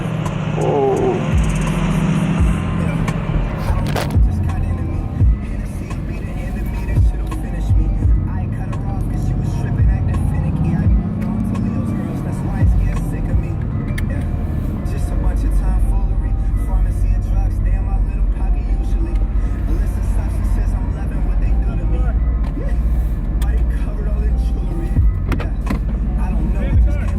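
A newly bought car sits idling at a police traffic stop, its engine a low, constant rumble running beneath people talking nearby.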